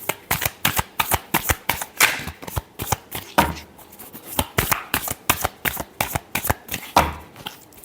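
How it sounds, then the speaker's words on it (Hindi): Tarot cards shuffled by hand in a rapid, steady run of crisp riffling bursts, close and clear, with no talking over them. "last shuffle"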